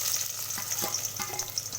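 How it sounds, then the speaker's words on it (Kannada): Chopped onions frying in hot oil with mustard and cumin seeds for egg curry give a steady, close sizzle, with faint stirring scrapes and crackles running underneath. "ಈ ರೀತಿ ಈರುಳ್ಳಿನ ಪೂರ್ತಿಯಾಗಿ ಹಾಕ್ಕೊಂಡು ಅದು ಗೋಲ್ಡನ್ ಬ್ರೌನ್ ಬರೋವರೆಗೂ ಪೂರ್ತಿಯಾಗಿ ಫ್ರೈ ಮಾಡ್ಕೋಬೇಕು."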